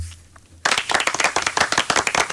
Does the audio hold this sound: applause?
yes